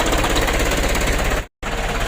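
A rough-running 120 PS Ragasa truck engine warms up, idling with a loud, rapid, uneven knocking pulse close by, briefly cut to silence before resuming.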